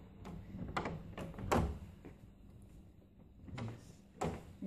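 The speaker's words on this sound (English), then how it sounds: "How does this door open now?" A hotel room door being worked open, with a few faint knocks and clunks of the handle and frame at moderate distance, quiet room tone between.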